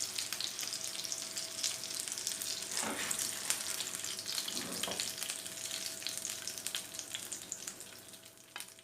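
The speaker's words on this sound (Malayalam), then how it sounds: "അപ്പോൾ നമ്മുടെ സ്റ്റീക്ക് ഫ്രൈ ആയിട്ട് വന്നിട്ടുണ്ട്." Beef steak fries in a pan with a continuous bright sizzle and crackle, with a couple of louder bursts of spitting midway, and no voices.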